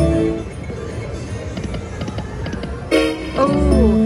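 A Dragon Train slot machine sounds off its special feature, with busy electronic game chimes and a rhythmic train-like chugging, then a bright horn-like melodic fanfare bursting in near the end, loud and close.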